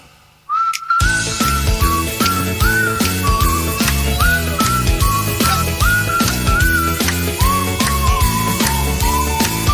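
A whistled melody rises clearly over a steady, rhythmic band accompaniment, the notes bright and sustained throughout.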